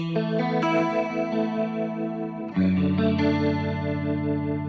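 Electric guitar played through a tri-stereo chorus effect: sustained, shimmering chords with a wide, wavering modulation, loud and alone, changing chord midway.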